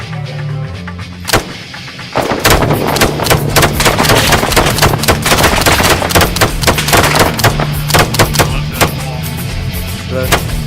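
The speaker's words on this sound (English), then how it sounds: "I see what you're shooting at" Gunfire in the ArmA 3 video game: after one early crack, a dense close volley of shots cracks and booms continuously for several seconds, loud and sharp.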